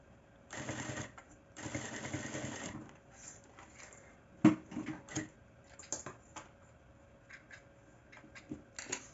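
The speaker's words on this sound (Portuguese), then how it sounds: "vou passar uma costura aqui de um pé de máquina" A sewing machine runs two short stitching bursts, with a backstitch at each end, sewing bias binding onto the main fabric of a pouch. Quieter handling clicks and taps follow.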